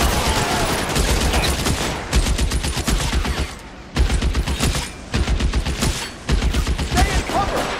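Heavy gunfire in a firefight in the video game L.A. Noire, a Nicholson Electroplating shootout: dense bursts of rapid shots in clusters with brief pauses, loud and continuous with faint voices underneath.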